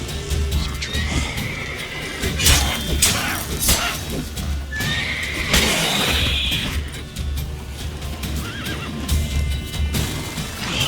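Horse neighing in the video game The Witcher 3: Wild Hunt, with a couple of loud whinnies over game music, hoof clip-clop and combat clatter.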